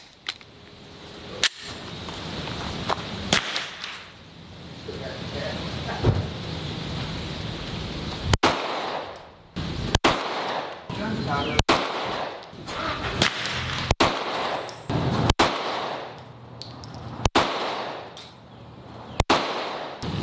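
A Springfield Armory Echelon pistol fired at an outdoor range, about a dozen loud, sharp shots at irregular intervals of one to two seconds, with no talking.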